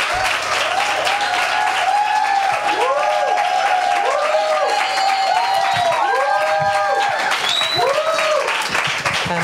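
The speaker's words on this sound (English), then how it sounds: "give a round of applause for Jill as she comes tonight" Loud, sustained applause from a congregation at a Bible school graduation greets a woman named Jill, continuous and even throughout, with sliding tonal sounds rising and falling above the clapping.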